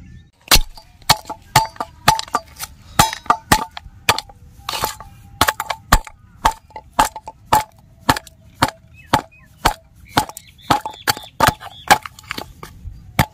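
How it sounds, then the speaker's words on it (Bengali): Fried fish head is broken apart by hand in a long run of sharp, dry cracking snaps, close and distinct, roughly one or two per second. "এখন আমি মাছের মাথাটাকে ভাঙিয়ে নিব।"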